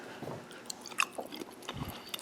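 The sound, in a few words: chewing soft marinated carrot and mushroom salad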